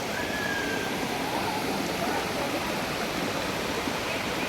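Steady, dense rush of a waterfall pouring continuously over rocks, loud and enveloping, with no pauses.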